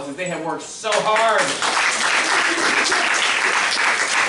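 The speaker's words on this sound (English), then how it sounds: "we need to give these wonderful people up here a huge round of applause" A room of kindergarten training attendees breaks into loud, dense applause after a voice finishes speaking, the clapping carrying on steadily to the end.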